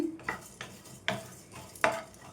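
Cumin and coriander seeds dry-roasting in a pan, heard as four distinct scraping stirs at a steady pace, close and fairly quiet with no voices.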